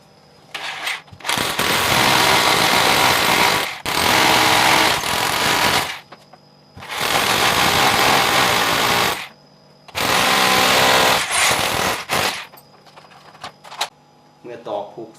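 A power drill bores into a wall and drives anchors to hang a large TV, in four long, loud grinding bursts separated by short pauses, with faint clatter between them.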